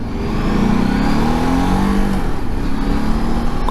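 A Ducati DesertX motorcycle with a Testastretta engine accelerates hard, and its engine note climbs loudly and close. A quick-shifter gear change cuts in about midway before the revs rise again.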